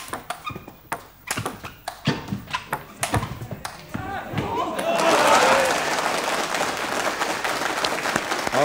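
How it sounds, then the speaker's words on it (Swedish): A table tennis exhibition match plays out with sharp ball taps in a steady rally rhythm, then an indoor crowd breaks into sustained applause that swells and fills the hall, with faint voices beneath. "domaren måste applådera här också"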